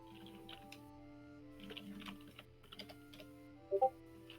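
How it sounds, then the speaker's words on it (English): Quiet, scattered computer keyboard typing heard faintly through an online call, a few irregular clusters of key taps against a low background hum. "I hear some typing going on"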